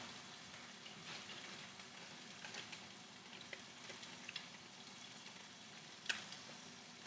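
Turmeric blooming in a little hot oil in a pan, a soft steady sizzle and crackle with scattered small pops and one sharper tick near the end, close and fairly quiet, no voices.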